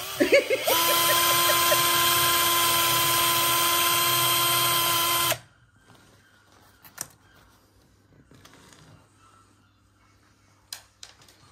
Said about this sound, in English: So I need a drill.